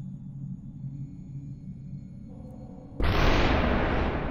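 A bomb goes off in the first-person action game SUPERHOT: a low rumble builds, then a sudden loud broadband blast hits at about three seconds and roars on to the end, with no talking.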